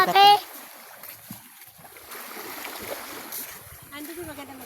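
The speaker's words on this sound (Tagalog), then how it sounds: "At ito yung dagat." Seawater splashes along the shore near a church in Claveria, Masbate, with a soft, continuous wash and a sharper splash at the start. Voices talk faintly in the background.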